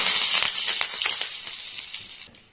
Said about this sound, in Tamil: கடுகு நல்லா பொரிஞ்சதும் கொஞ்சமாக கருவேப்பிலை போட்டுக்கலாம்.